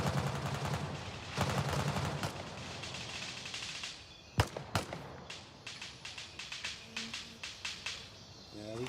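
Gray Zone gunfire: scattered sharp shots crack at middle distance, one loud close report stands out, then a steady run of evenly spaced single shots follows, with brief talk in the background.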